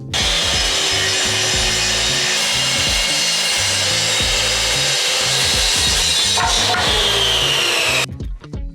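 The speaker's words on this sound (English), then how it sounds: "a wire brush drill attachment lets me scrape in those subtle twists and warps" A wire brush drill attachment scrapes hard along a wooden lintel, a loud, continuous rasping grind that holds steady for about eight seconds, surges briefly, then cuts off near the end.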